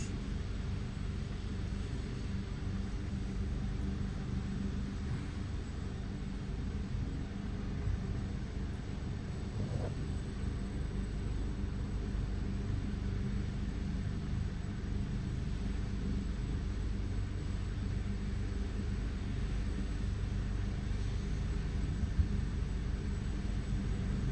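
An ambulance helicopter lifting off at Mama Yemo produces a steady, loud engine roar and broadband rumble that holds at an even level for the whole stretch, with no clear rotor beat standing out.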